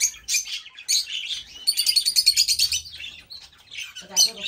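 A small finch in a Massachusetts pet store chirps in bright, rapid bursts, near and fairly loud, with one stretch of quick repeated tweets and faint background rumble.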